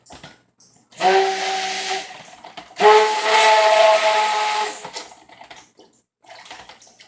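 Tap water running in two strong bursts with a whistling, hissy tone, quieter trickling and dripping between and after, filling a container to rinse a stick blender.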